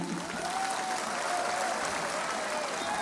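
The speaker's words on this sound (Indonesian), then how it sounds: "Tepuk tangan untuk yang di" At a political party gathering, a large crowd applauds for officials seated up on the stage, producing a steady, even wash of clapping that stays constant throughout, slightly distant and with no distinct single claps standing out.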